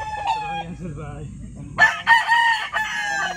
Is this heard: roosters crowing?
yes